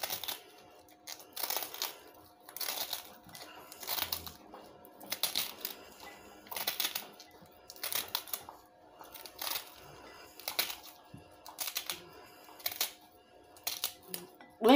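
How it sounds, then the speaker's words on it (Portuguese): A knife thinly slices collard greens in a bowl, making a quick run of crisp, crunchy cuts in uneven bursts, fairly close and soft, with no talking. "Vamos cortar ela aqui até cortar todinha bem fininha."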